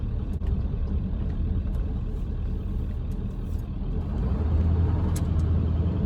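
Ford F250 with the 7.3 engine, an OBS truck, rumbles along during a three-point turn, its deep diesel drone steady and close with a slight swell in low-end power near the end and faint clicks on top.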